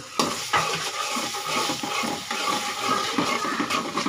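Onions frying in oil crackle and hiss with repeated stirring scrapes in the pan, close and fairly loud, with no voices.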